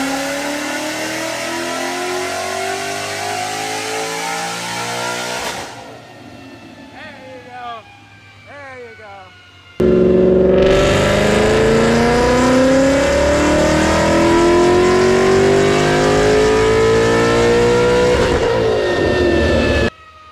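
A supercharged Ford Mustang S197 revs on a dyno pull, its loud engine rising steadily in pitch, dropping off, then climbing again in a second long, roaring run with supercharger whine.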